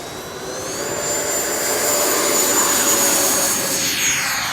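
An 80mm electric ducted-fan RC F-14 Tomcat taking off lets out a loud, rising turbine-like whine that swells and holds steady as it spools up and accelerates.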